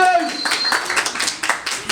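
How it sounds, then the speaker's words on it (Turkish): Students and teachers in a school quiz break into applause, a burst of close clapping overlapping with lively chatter and voices. "Alkış!"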